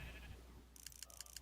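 Several short, high-pitched bleats from sheep in the blocky farming world of Minecraft, in quick repeated bursts over a low steady hum, fairly quiet.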